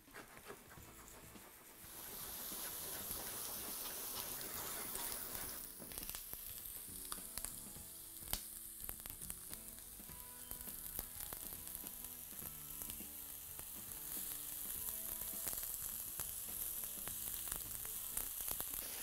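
Rice-stuffed savoy cabbage rolls sizzle steadily in a hot pan while browning on both sides, a constant crackling hiss with small pops throughout.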